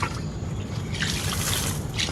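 Water splashing and trickling as a child plays with it, soft dribbles and small splashes over a faint background hum.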